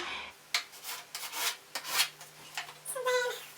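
Caulk being wiped off by hand on a painted bathroom vanity after filling holes with silicone caulk, giving a series of soft, close rubbing swipes in uneven bursts, with no talking.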